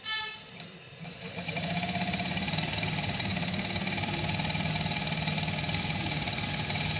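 Sewing machine stitching a trouser, starting up then running at a fast steady mechanical whir with a rapid needle rhythm, loud and close, no voices.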